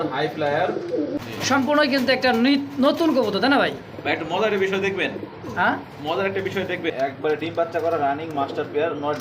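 Pigeons at a crowded pigeon market give continuous throaty cooing close by, many birds overlapping in rolling, warbling calls, with voices of people talking mixed in.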